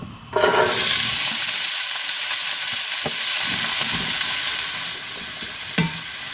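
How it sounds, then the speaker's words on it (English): Vegetables sweat in about two tablespoons of olive oil in a pan for a Bolognese sauce, giving a steady, fairly loud sizzle and fry throughout, with a couple of soft clicks from stirring and no voices. "we're going to start sweating off the vegetables and about 2 tablespoons of olive oil"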